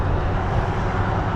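Steady road traffic rumbles near a bridge on a trail, a continuous loud wash of passing vehicles with no distinct pauses.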